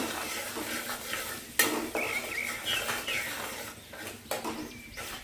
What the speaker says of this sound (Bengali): কিমা করা রসুনটা এর মধ্যে দেব। প্রথমে দিয়ে নাড়াচাড়া করব হালকা।